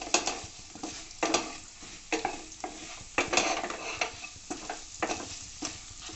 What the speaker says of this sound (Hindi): मसाले को ऐसे कुछ सेकंड्स तक भून लेंगे